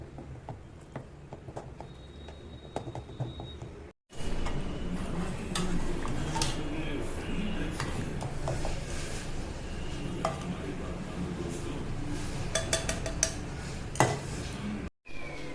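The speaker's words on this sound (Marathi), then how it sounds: "याला पावभाजीच्या मॅशरनी याला मस्त असं मॅश करून टाकायचं आहे एकजीव करून टाकायचं आहे" A masher works boiled pav bhaji vegetables in a pot, giving repeated soft thuds and metallic clinks in an irregular rhythm, close by and moderately quiet, with faint talk in the background.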